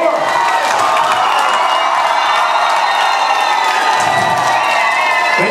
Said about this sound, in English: And I would like a big applause for Kate, please.